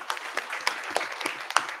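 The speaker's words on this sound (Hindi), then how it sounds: "कुलदीप के लिए एक जोरदार ताली बजा दीजिए।" Sparse, faint applause from an audience at a university B.Tech. and Architecture orientation inauguration, with a few scattered claps spread over two seconds and no voices.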